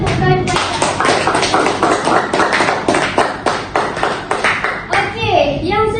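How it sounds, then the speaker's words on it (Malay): Classroom applause for a student: many hands clapping in a quick, fairly regular rhythm, loud and close, fading out near the end as a voice speaks. "Berikan tepukan kepada."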